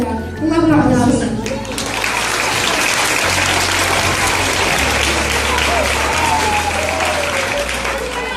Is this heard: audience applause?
yes